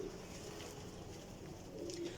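Pigeons kept as flying birds, desi Sialkoti breed, give a soft, low cooing that hums steadily in the background, faint and without any talk.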